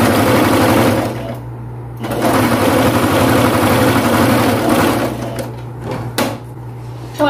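A sewing machine runs steadily, stitching the side seams of a gathered dress with a ruffled hem, with a brief pause near two seconds before the loud, close motor hum and needle chatter resume.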